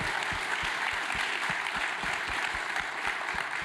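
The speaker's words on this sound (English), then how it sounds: "Okay, quick round of applause." Quick, dense round of applause from a conference audience at a military veteran venture capital summit, acknowledging Tim Shaw; even, sustained clapping at moderate volume with no speech.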